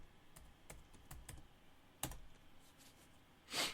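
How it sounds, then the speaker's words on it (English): Someone types a search into a podcast app, a quiet run of separate key clicks at an uneven pace, with a sharper tap in the middle and a brief soft rustle near the end. "So all you got to do is come and type in Gye-Nyame."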